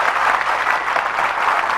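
A community gathering of the Kunkavav family in Surat, a 2004 get-together, breaks into loud, dense applause that holds steady throughout, many hands clapping together with no one speaking over it.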